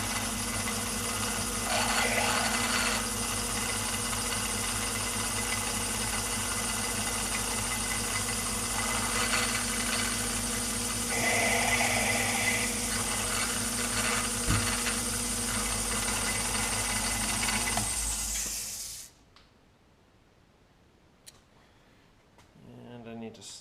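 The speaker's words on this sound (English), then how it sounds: "Let's see how she drills." A machine spindle drilling during a tool post project, a steady mechanical whir and vibration running continuously for about eighteen seconds before stopping abruptly, leaving quiet with a few small clicks.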